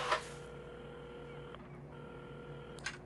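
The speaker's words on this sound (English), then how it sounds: "at the counter, Carmen had started dialing the phone." A telephone being dialed in the video game Assemble With Care: a steady tone broken by short clicks, with a brief rustling burst at the start and another near the end, and nobody talking.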